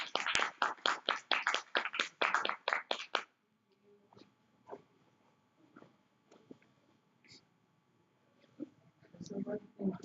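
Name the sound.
audience clapping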